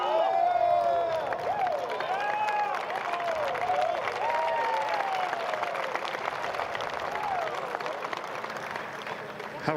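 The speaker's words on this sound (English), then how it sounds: "How good is a delayed clap" Golf spectators at the 2025 PGA Championship final round break into delayed applause, a steady wash of clapping and crowd cheer from a distance, with a few whistles rising through it and no clear talk.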